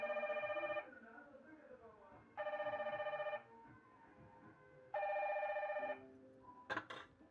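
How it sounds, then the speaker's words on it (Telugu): A phone rings three times with evenly spaced, steady electronic tones against a quiet kitchen background, and a few clatters follow. "మా ఫోన్ వస్తుంది."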